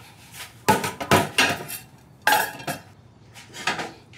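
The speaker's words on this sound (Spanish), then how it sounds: "ayúdame a lavar los platos en lo que yo empiezo a limpiar lo demás" Dishes being washed in a home kitchen: a series of close, sharp clatters and clinks of plates and cutlery, in irregular clusters with short quiet gaps and no talking.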